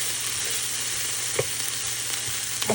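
Onions sizzling alongside melting butter in a pan, a loud, continuous close-up frying hiss with a few faint pops and stirring knocks, no voices.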